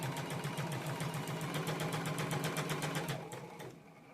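A sewing machine stitches a quarter-inch quilt seam on a pinwheel nine patch block, running in a fast, even rapid-fire rhythm, loud and close, then slowing and stopping near the end.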